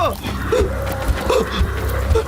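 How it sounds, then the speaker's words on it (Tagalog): A dog barks and yips in short bursts inside a Filipino aswang horror audio drama, with the barks coming at a steady rhythm and sounding loud and close, mixed with voices. "May aso!"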